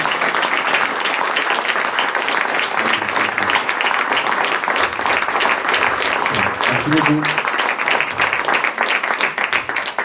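Audience applause for someone after a documentary event: sustained, loud, dense clapping from a sizable crowd for about ten seconds, with a brief spoken thanks partway through.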